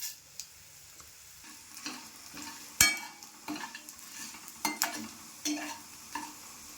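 Cumin and coriander seeds frying in a pan for a paneer and peas masala. Light sizzling runs under a series of sharp clicks and scrapes from stirring, with one louder clack near the middle.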